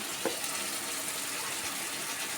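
Water runs from a tap while fish are rinsed, a soft steady stream with a brief splash near the start, fairly faint and close.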